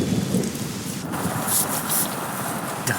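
Heavy rain pours during a thunderstorm, a dense continuous hiss of drops with low rumbling underneath, loud and steady throughout.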